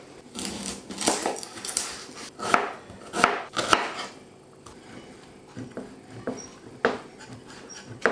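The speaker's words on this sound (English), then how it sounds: "we need to slice and dice the onion" Irregular knife chops on a cutting board while dicing an onion, a few clustered strikes then scattered ones, close and fairly loud with quiet gaps between.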